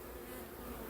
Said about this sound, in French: J'ai des abeilles qui volent